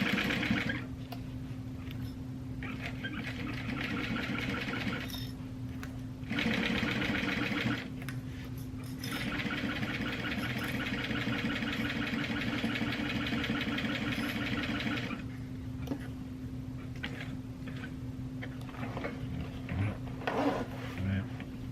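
Sewing machine stitching a seam with a zipper foot fitted, a steady mechanical whirring hum running in long bursts with brief pauses between, close up, with a person talking quietly at times.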